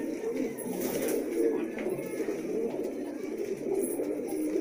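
Malwai pigeons in a loft, cooing in a soft continuous low burble at moderate distance, layered over a faint background hum without speech.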